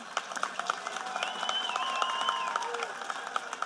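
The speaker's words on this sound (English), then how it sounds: "Please give these ladies and gentlemen another round of applause." Audience applause at a 2021 high school STEM academy graduation ceremony: a steady wash of many hands clapping that fills the whole stretch, with a few sharper claps on top and a faint tone threading through it.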